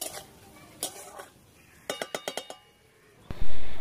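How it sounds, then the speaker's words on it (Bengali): A spoon stirs tomato into spices in a cooking pan on a low flame, with scattered scraping, then a quick burst of clinking taps against the metal and a brief final clatter, all close. "টমেটোটা দিয়ে ভালো করে মশলার সাথে মিশিয়ে নিতে হবে।"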